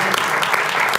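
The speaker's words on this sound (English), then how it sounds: "So I think we should give Whitney a round of applause." A short burst of audience clapping at an anniversary celebration for a living-learning center, dense and steady for about a second.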